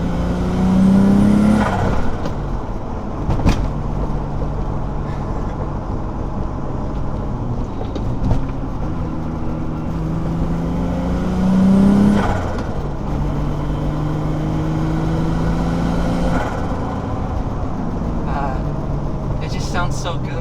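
BMW E30 engine while driving, on a car fitted with a solid chassis-mount shifter and poly motor mounts, droning steadily with rising and falling revs through gear changes, close and prominent throughout, with talk over it.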